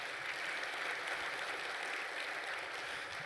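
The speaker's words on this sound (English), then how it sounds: "Give yourself a round of applause." Audience at a men's conference clapping together, a dense, even wash of applause heard from some distance and fairly quiet.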